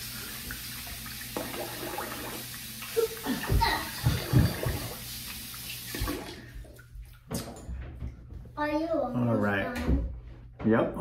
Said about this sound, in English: I'm gonna rinse the face here.